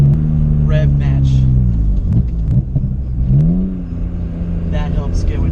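A BMW M3 E46 convertible engine blips and revs up during a rev-matched downshift while driving, its steady rumble rising in pitch midway, with someone talking over it throughout.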